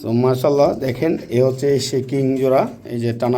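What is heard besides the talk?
No everyday noise stands out behind the speech.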